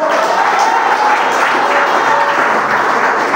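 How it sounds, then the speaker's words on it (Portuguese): A church congregation clapping hands in praise, a steady, dense layer of many hands at constant loudness, heard alone without speech. "Pode enaltecer o nome do nosso Rei Jesus com mais forte as palmas para o Senhor."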